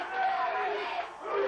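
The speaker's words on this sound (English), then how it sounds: "the place exploded with cheering, stomping, screaming fans craving a championship" A big ballpark crowd at Game 4 of the 1993 World Series, Blue Jays at Phillies, roars and screams in a sustained, loud wash of cheering, with a voice carrying over it.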